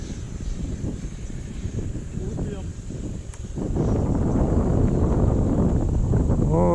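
Gusting wind buffeting the microphone at an RC flying field where a Freewing T-45 Goshawk 90mm jet is flown, a low, rumbling roar that swells louder halfway through, with a person talking over it.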